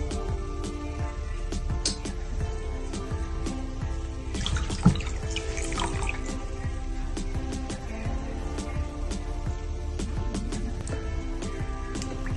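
Water runs steadily from a tap while someone washes their face, with splashes and drips scattered through the continuous flow.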